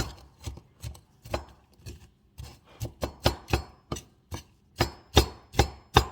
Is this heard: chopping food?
yes